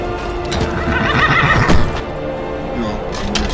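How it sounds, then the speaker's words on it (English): A horse neighs loudly nearby in Skyrim, a long shrill whinny, with hooves clopping and rustling around it. "There's a horse."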